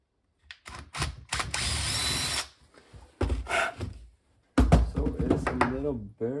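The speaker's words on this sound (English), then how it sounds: "let's go ahead and drill some holes through here for the bushings" Bursts of a power drill whirring in short runs with pauses between, drilling holes through metal for bushings on a Yamaha two-stroke outboard steering joint, with clunks and handling noise, and a voice talking near the end.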